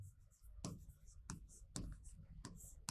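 Writing during a history lesson, with faint pen or chalk taps and strokes at irregular intervals, quiet and close, with soft breathy talk in the background.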